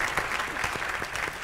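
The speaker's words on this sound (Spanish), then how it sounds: "Un aplauso para él." Audience applause for a contestant at a Jotalent talent show interview event, steady dense clapping from a crowd, fairly close and even throughout.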